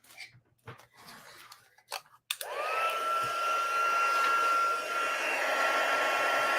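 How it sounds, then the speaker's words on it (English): After a few quiet taps and handling sounds, a heat tool switches on to melt embossing powder, its loud, steady blowing whine holding evenly to the end. "right, let's bring in our heat tool."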